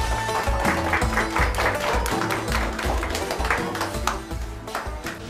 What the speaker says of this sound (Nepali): पछाडिदेखि सम्पूर्णले ताली बजाइदिनु होला।